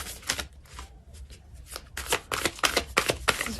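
Tarot cards shuffled by hand, close and crisp, a series of quick riffling bursts that speed up and grow louder toward the end, with no talk.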